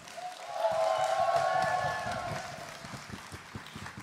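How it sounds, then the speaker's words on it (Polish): Audience applause for a gospel workshop choir and band at a concert, a broad wash of clapping lasting a few seconds, with a held sung or sustained tone over it before it thins out. "Wielkie brawa dla nich."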